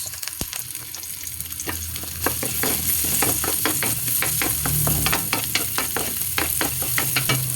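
Onions hit a hot wok and sizzle loudly in oil, a dense continuous crackle and hiss with frequent stirring scrapes and taps, close up.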